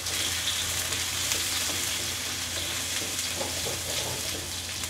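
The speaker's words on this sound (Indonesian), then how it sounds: "Kemudian kita tumis bawang merah dan bawang putihnya" Shallots and garlic sautéing in hot oil give a steady, even sizzle that holds unbroken from start to finish, with no voices.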